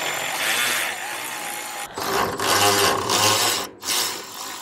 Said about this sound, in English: I'm gonna start up here taking all these bolts out.